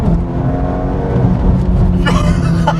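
A Honda Type R rumbles and whirs up through acceleration, its engine heard close and loud from inside, with a brief higher sweep near the end and no talk over it.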